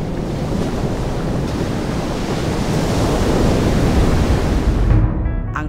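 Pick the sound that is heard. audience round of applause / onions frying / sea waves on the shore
sea waves on the shore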